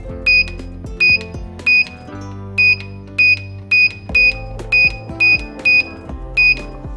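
Keypad on an Arduino digital lock giving a series of about eleven short, sharp beeps at a quick uneven pace as a password is entered, each beep loud and close over a low musical background.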